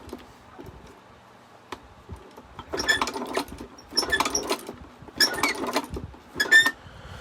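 Leather shoe patcher sewing machine stitching in short bursts, four or five quick rattling runs of needle strokes separated by pauses, close and fairly quiet against a low background hum.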